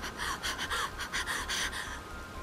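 A character in the visual novel Mahoutsukai no Yoru pants after finding a body and fleeing down stairs. Quick, rhythmic breaths repeat steadily for a couple of seconds, close and alone with no speech.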